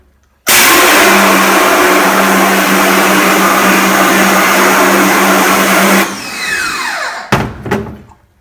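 A strong hose spray blasts water steadily onto a screen printing screen to wash out registration marks, a loud continuous hiss that cuts off abruptly, followed by a few splashes and drips.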